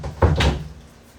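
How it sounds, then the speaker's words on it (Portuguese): A door swings shut in a home with dogs, a quick double knock of the closing thud, close and sharp, then quiet. "Deixa eu fechar a porta aqui"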